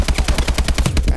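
Rapid automatic gunfire from the video game Call of Duty: Advanced Warfare, a loud close burst of about a dozen evenly spaced shots fired in quick succession.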